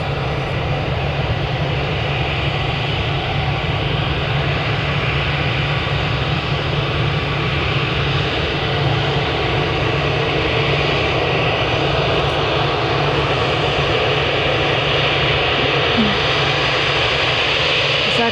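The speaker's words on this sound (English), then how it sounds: "next up then we've got a Swiss Airbus A320-200 going to Zurich" Swiss Airbus A320-200 airliner, 28 years old, bound for Zurich from Manchester Airport, produces a steady, loud, broadband engine roar that holds constant throughout without a clear rise or fade.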